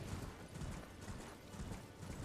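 Horse hooves clip-clopping steadily over ground in Elden Ring, a quiet, continuous trotting rhythm in the background.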